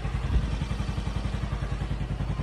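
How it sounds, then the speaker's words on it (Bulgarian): Rented motorbike ridden in Bali, a low rapid engine putter with a steady rhythmic pulse and faint road clatter, close and moderately loud, with no speech. "Наехме си мотора."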